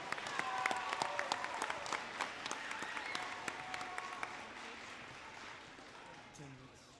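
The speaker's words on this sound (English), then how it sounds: "Let's give them one big round of applause." Audience applause fills a junior high school awards ceremony, a dense wash of many hands clapping steadily at moderate volume for several seconds, tapering slightly toward the end.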